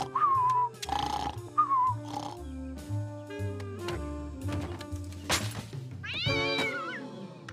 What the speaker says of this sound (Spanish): ¿200 canales y solo veo gatos?